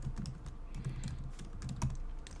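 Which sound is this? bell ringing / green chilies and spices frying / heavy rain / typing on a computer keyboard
typing on a computer keyboard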